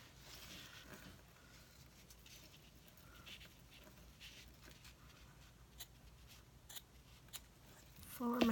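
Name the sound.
scissors cutting cardstock for thank you cards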